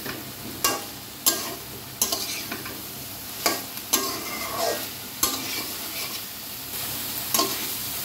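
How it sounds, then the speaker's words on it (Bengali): Soybean chunks stir-fried in a pan of oil, with a soft continuous sizzle broken by regular sharp scrapes and knocks of a spatula against the pan, roughly one every second. "এটাকেও বেশ কিছু সময় ধরে সুন্দর করে কিন্তু কষিয়ে নিতে হবে একসাথে।"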